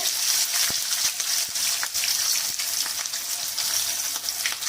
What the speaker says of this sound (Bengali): দুটো দুটো করে প্রথমে ভেজে নেবো